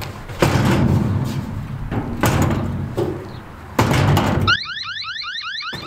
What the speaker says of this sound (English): which will sound an alarm if somebody jostles it too much while the lid is shut